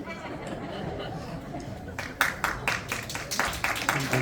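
Audience applause at a live Korean gakseori variety showcase breaks out about halfway through, a dense burst of clapping over the crowd's chatter that carries on to the end.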